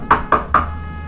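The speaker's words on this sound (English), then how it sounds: "He turned around in his chair at the sound of the knocking." Three sharp knocks strike a wooden door in quick, even succession, close and crisp, followed by quiet room tone with a low hum.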